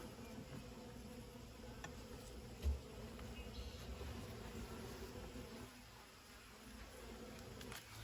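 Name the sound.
swarm of honeybees in a hive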